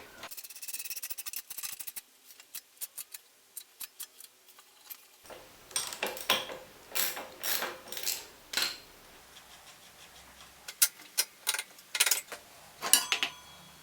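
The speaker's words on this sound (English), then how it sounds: "as this drive gear rotates, this piece in the end turns, which is connected to a cable" Speedometer drive gear from a Honda CG125 motorcycle turning on a bike stand, giving sparse ticking and light metallic clicks that grow into irregular bursts of rattling, close up and fairly quiet.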